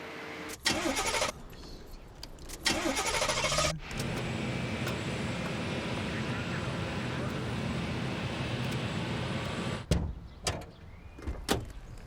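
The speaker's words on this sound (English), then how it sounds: "Engines 4 and 1 starting." A broad, steady roar of Concorde engines 4 and 1 starting builds and holds for several seconds after some clunks and brief voices, then cuts off.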